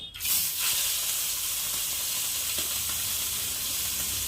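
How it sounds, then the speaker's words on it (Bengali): Amudi fish fries in hot oil with a loud, dense, continuous sizzle up close, starting with a sharp burst and holding steady throughout. "এখন এই যে আমাদের মাছের দিয়ে ভালো করে ভেজে নেব"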